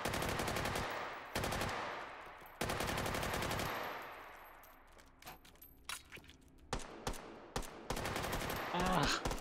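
A light machine gun fires in the VR shooter Hot Dogs, Horseshoes & Hand Grenades in an old west setting: long rapid bursts up close, then fading echo and a few spaced single shots with small clicks.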